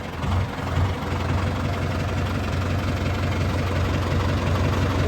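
A tractor engine idles with a steady low rumble and vibration, close and constant throughout, without any talking.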